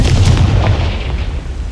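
A Confringo fire spell detonates in Hogwarts Legacy, a loud, deep booming blast with a rumbling tail that fades over about two seconds.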